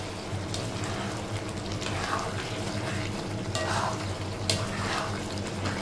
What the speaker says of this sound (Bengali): এখন আমি দিয়ে দিব এই যে আলুগুলো